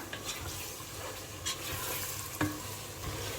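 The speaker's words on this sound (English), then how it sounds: "We stir together." Crayfish and smoked fish stirred together in a pot for Cameroonian huckleberry (njama njama), a quiet sizzle with soft scraping strokes and one sharper clink near the end.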